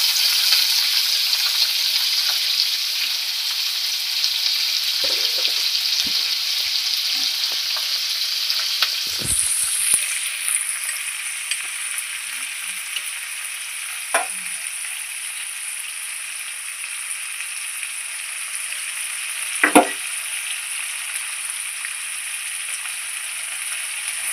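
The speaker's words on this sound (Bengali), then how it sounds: "ভালো করে ভাজা হতে দিতে লাগবে।" Raw onions fry in a pan for a bottle gourd and shrimp dish, giving a steady, close sizzling hiss throughout with a few soft stirring knocks and scrapes and no talk.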